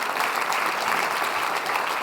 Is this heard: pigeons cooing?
no